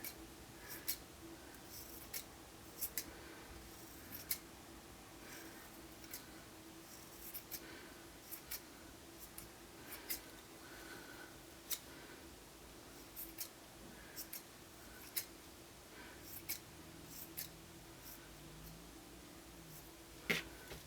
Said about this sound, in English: now I'm just going to trim it again